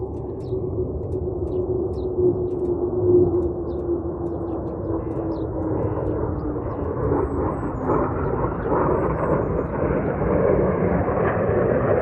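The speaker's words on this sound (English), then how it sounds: "Big plane, big plane." A large airplane roars steadily overhead, a broad low engine rumble with a slowly falling whine that holds loud throughout.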